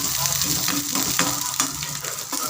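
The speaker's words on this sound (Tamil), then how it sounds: "பூண்டு ஒரு ஒன் மினிட்டுக்கு வந்து கொஞ்சம் இப்போ மீடியம் ஃப்ளேமில் வச்சு கொஞ்சம் ஒரு வதக்கி எடுத்துக்கோங்க" Garlic sautéing in a pan over a medium flame, a steady loud sizzle with occasional stirring scrapes, close up and uninterrupted by speech.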